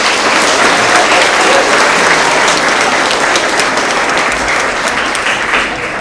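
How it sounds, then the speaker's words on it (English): Loud, dense applause from students and families at an elementary school spring award assembly, continuous and even for about six seconds before easing slightly at the end. "Let's give them a big round of applause."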